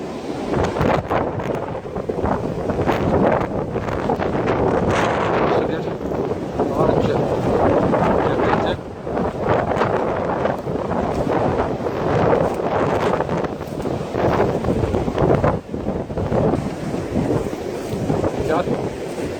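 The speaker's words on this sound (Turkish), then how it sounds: "Rüzgarlı bir hava. Şiddetli rüzgar var." Strong storm wind buffets the microphone in continuous rough gusts, loud and close, on a bridge over the Sarımsaklı reservoir, with a voice faintly talking underneath.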